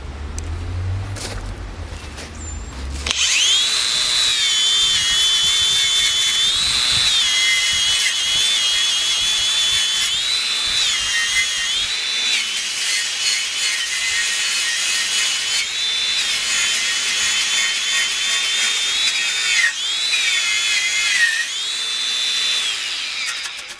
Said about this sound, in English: So let's see if this cordless grinder even has the power to turn this wheel.